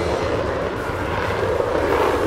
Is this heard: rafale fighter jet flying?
yes